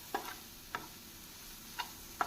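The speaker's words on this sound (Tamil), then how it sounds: "நாம் குடைமிளகாய் போட்டு அடுப்பை மிதமான தீயில் வைத்து ஒரு 2 நிமிடம் நன்றாக வதக்க வேண்டும்." Capsicum sautés in a pan over a medium flame as a home-made pav bhaji masala is prepared, with a faint, soft sizzle and four quiet, scattered stirring scrapes.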